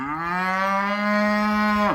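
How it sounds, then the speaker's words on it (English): A dairy cow lets out a single loud, close moo, a long sustained low call with a steady tone that bends down abruptly at the end, heard alone with no talk. "that is my cow who thinks she is ready to be milked."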